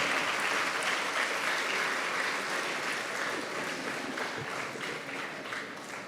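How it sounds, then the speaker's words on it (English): Audience applause at a graduation felicitation ceremony, a full, even wash of many people clapping that holds steady and fades slightly toward the end, with no speech over it. "please applaud, please applaud."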